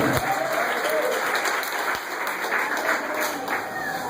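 A congregation in a church claps together, with dense, steady applause that stays loud throughout and has faint voices mixed in.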